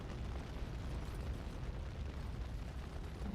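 Fire barrels bursting into flame in the video game Dragon Age Origins, a steady, dense roar of blast and crackle filling the whole moment without pause.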